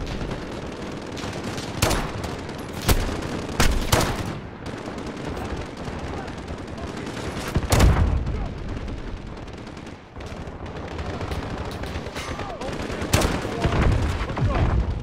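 Bursts of gunfire and sharp single shots in a Call of Duty Modern Warfare mission, cracking out at irregular intervals over a steady bed of combat noise, with voices talking now and then.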